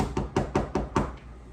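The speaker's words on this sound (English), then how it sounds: "All of a sudden, there was a knock at the door." Five firm knocks land on a door in an even, quick rhythm, each a hollow thud with a short ring, followed by a moment of quiet room tone.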